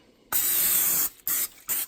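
Spray bottle misting water over wheat bread dough in a pan, one long hissing spray followed by two shorter bursts, close and clear with no talk.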